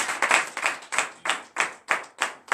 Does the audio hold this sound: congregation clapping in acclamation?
yes